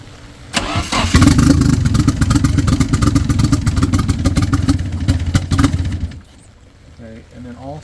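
A Nissan KA-T turbocharged engine cranking and catching at its first start-up, then running roughly and loudly at close range for about five seconds before cutting out, with a voice speaking briefly afterward.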